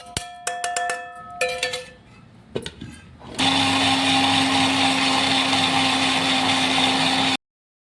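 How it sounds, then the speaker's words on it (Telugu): Mixer grinder churning soaked peanuts with a little water into chutney, starting with a few clattering taps and short jar knocks, then a loud, steady whirring motor drone for several seconds before cutting off abruptly. "మనం గ్రైండ్ చేయాలి కదా"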